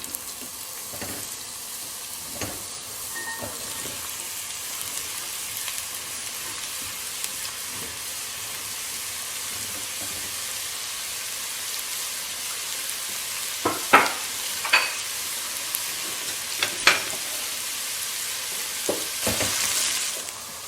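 Onion, celery and carrots sizzle steadily in olive oil for a bolognese, with a constant frying hiss and occasional louder clinks and stirring scrapes from the pan.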